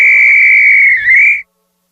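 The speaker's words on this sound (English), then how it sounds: "Hiccup Hunter Toopy took a whistle from his bag and blew it with all his might." A whistle blown hard gives one long, loud, steady shrill tone lasting well over a second, wavering slightly near the end before cutting off abruptly into silence.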